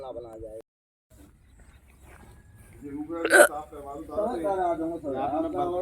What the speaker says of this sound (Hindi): वो अच्छी खासी बड़ी बड़ी सी हिचकी आ रही थी